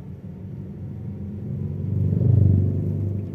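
A car's engine rumbles low and steady from inside the moving vehicle, swelling slightly toward the middle before easing, with no voices over it.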